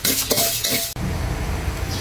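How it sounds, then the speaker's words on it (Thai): Garlic fries in a pan for Thai larb, a utensil scraping and stirring with a sharp clatter before the sizzle settles into a steady loud hiss. "เจียวกระเทียม"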